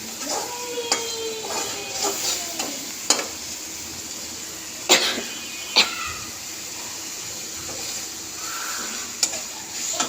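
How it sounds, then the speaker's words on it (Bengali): Prawns fry in hot oil over cooked spices for a lau shak and prawn bhuna, a steady close sizzle broken by several sharp scrapes and clinks of stirring. "চিংড়ি মাছটা একটু ভালো করে ভাজতে হবে।"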